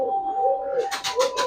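A Giribaz pigeon at a pigeon farm, a molting bird with a pure white tail, coos in a steady low rolling rhythm. A brief burst of rustling or flapping comes near the end.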